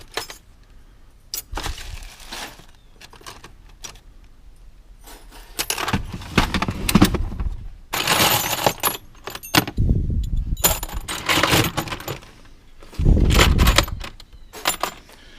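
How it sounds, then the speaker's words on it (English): A collection of antique skeleton keys jangles and clinks in several loud, close bursts of rattling metal, separated by quieter pauses, with no talking. "Thousands and thousands of different keys."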